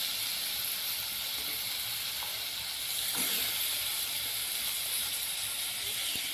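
Dried shrimp frying in a pan, a steady close hiss and sizzle with faint crackles, continuous and even throughout without talking.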